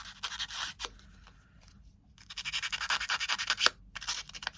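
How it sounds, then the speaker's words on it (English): Sandpaper rubbed over a paper craft tag to distress it, close scratchy strokes in quick bursts, a pause, then a faster run of rhythmic rasping. "I'll distress it a bit with some sandpaper."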